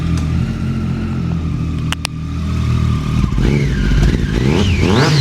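A white 2015 Triumph Daytona motorcycle fitted with an aftermarket exhaust idles with a steady low rumble, then gets several sharp throttle blips that rise and fall in pitch, loud and close with no talking.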